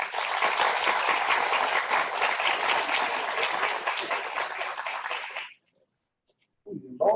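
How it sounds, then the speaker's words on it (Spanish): Applause from an audience at a Spanish-language educational panel event: steady, dense clapping from many hands for several seconds, then cutting off abruptly into silence before a brief sound returns. "y por favor, fuertes aplausos."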